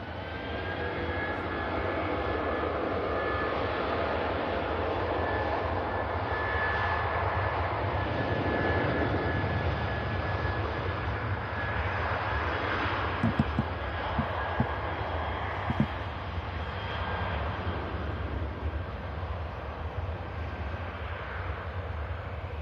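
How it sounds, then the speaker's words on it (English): Turkish Airlines Airbus A330 departing for Istanbul, a steady distant jet engine roar with a thin whine, sustained and fairly even, with a few faint knocks midway. "And out to Istanbul, Turkish A330."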